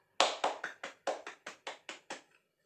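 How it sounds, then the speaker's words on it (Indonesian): Ten crisp, evenly spaced claps in a fourth-grade classroom lesson, sharp and close, ending in a quick patterned flourish before silence. "Boleh tepuk tangan dulu untuk kita semua."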